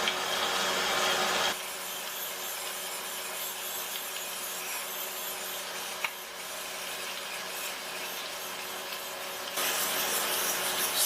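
A Gränsfors Bruks small forest axe is sharpened on 1200 grit, giving a steady, close abrasive rubbing hiss in long continuous strokes with no talk.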